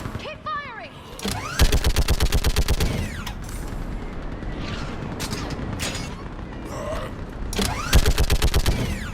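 Sci-fi gunfire in Mass Effect 3 during a battle on Thessia: two rapid automatic bursts, one early and one near the end, with scattered single shots, booms and voices in between.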